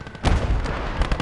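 A big artillery gun fires in the Gates of Hell: Red Star Rising game, one loud, close boom with a heavy low thump that rolls into a rumbling tail, with no talk.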